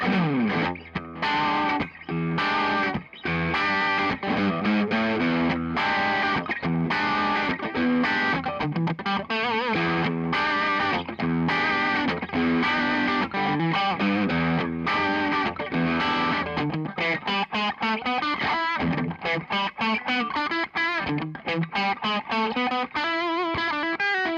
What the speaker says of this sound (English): Bridge pickup, single coil sound.